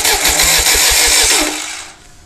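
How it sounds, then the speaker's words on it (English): A starter cranks a Ford 2.3L EcoBoost engine mated to a T5 transmission, giving a loud, close, rapid rhythmic chugging for about a second and a half before it stops and fades. "We're gonna arc the starter here and just make sure the motor turns over without grinding"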